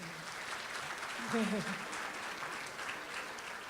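Steady applause from an audience at an awards ceremony fills the clip at moderate volume, with a brief voice rising over the clapping partway through.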